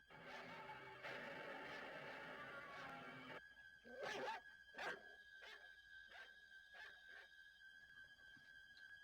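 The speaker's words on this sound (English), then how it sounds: "Lindsay, get this dog out of the kitchen right now." A family dog in a kitchen whines in a long, steady tone, then lets out several sharp, close barks and yips, followed by softer whimpers.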